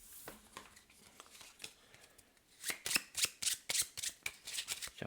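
Cards for the board game Black Sonata are shuffled close by, with scattered soft riffling and handling at first, then a rapid, loud run of crisp riffle-shuffle bursts in quick rhythm.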